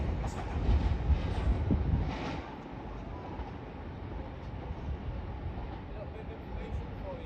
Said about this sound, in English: Now arriving in is a Class 158 Northern